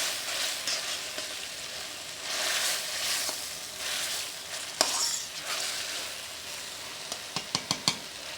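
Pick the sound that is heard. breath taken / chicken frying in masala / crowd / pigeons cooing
chicken frying in masala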